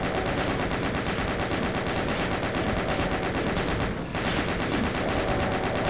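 Chaingun in the video game Doom II firing in a continuous rapid burst, dense and loud throughout with a brief dip near the end.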